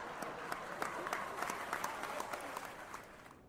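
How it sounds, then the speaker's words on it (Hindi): An audience of college youth applauds at a talk and Q&A session, dense, sustained clapping of moderate loudness that slowly tapers off. "ताली हो जाए इनके लिए."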